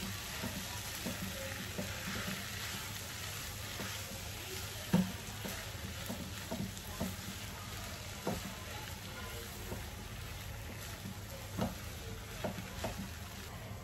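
Mashed potato and vegetables are stirred in a frying pan, a steady low sizzle with repeated spatula scrapes and soft knocks, close by, no talking.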